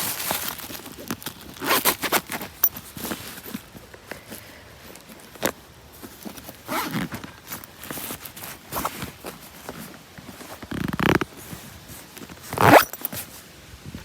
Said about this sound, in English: So let's zip that up.